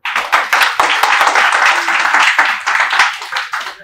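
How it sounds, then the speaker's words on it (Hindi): Students in a classroom clapping for themselves, a dense burst of quick hand claps that holds steady for several seconds before loosening into scattered claps. "आप के लिए ताली बजा दो।"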